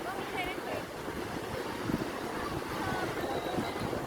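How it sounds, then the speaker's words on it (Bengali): Steady ocean surf washes on the beach at Cox's Bazar, blended with wind noise and a faint voice in the background. "বিশাল সমুদ্র"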